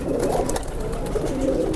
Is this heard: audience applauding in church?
no